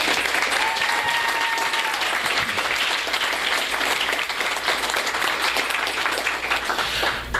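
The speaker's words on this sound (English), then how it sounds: "Can we please take one moment to give an applause to all of the Joliet Arts" Loud, sustained applause from an audience at an arts commission unveiling in Joliet, Illinois, a dense continuous patter of many hands with a faint voice briefly audible early on.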